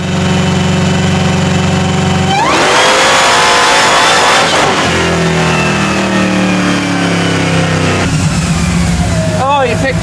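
A Hellcat-swapped 1972 Dodge Demon roars on a dyno, the engine revving hard then dropping back and climbing again, loud and close, with voices talking over the noise.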